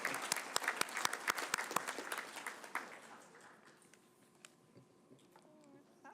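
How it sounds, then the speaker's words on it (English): Members of a city council meeting give a round of applause, a burst of close clapping that fades after about three seconds into quiet room tone with faint electronic hum. "Give him a round of applause, please."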